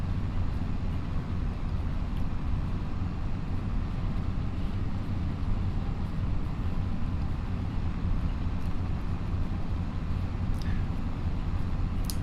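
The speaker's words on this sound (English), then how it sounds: "the Steyr is not a tractor that I use very often" A Steyr tractor in Farming Simulator 25 drones with a steady, unbroken engine hum that stays even and moderately quiet throughout.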